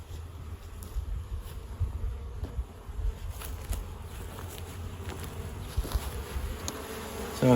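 Honey bees buzzing close by during a spring hive inspection, a constant drone with occasional frame and handling knocks.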